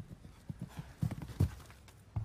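Horse hooves clip-clopping at a show jumping Grand Prix, an uneven run of thudding footfalls at moderate distance over arena background noise.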